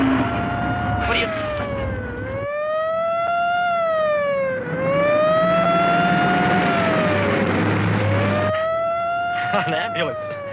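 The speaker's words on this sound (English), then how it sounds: "An ambulance." A wailing ambulance siren on a road, loud and close, its tone rising and falling in long sweeps that dip briefly before climbing again, with engine rumble beneath.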